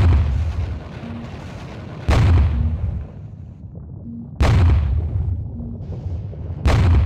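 Cannon fire in the strategy game Parkan: Iron Strategy: three heavy booms about two seconds apart, each a sudden loud blast trailing into a long rumbling decay, with a low hum between shots.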